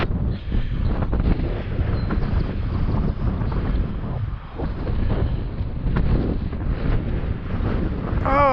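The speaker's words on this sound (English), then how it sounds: "that wind is getting horrible" Strong, gusty wind roars and buffets steadily during a high-wind FPV drone flight. The broad, rumbling noise stays loud throughout with no talking.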